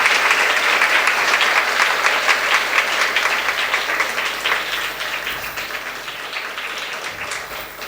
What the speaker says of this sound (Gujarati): તાળીઓથી આવકારીએ.